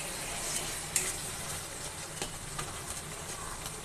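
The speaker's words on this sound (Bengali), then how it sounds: "মশলাটা কষানো হয়ে গিয়েছে মাছ ভুনা করার জন্য" Masala for fish bhuna sizzles steadily in a pan, a soft continuous crackle with occasional faint stirring ticks, no voices over it.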